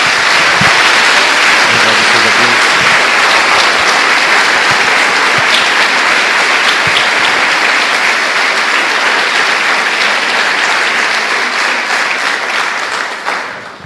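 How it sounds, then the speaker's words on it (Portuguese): A church congregation bursts into loud, sustained applause, a dense wash of clapping hands that holds steady for many seconds before tapering off at the end. "Dê uma salva de palmas ao Senhor"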